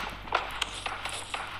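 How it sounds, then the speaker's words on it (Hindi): Footsteps in an online video game, a quick, faint run of light steps under a low background rumble, with no talking. "पैरों की आवाज़ तो आती हुई।"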